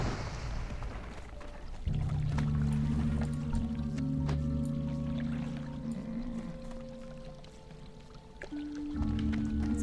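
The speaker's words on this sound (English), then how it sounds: "It's kind of a waterfall." Steady rushing water from a waterfall inside a cave in World of Warcraft Classic, a continuous wash of noise under low sustained tones from the game's ambient music, with no voices.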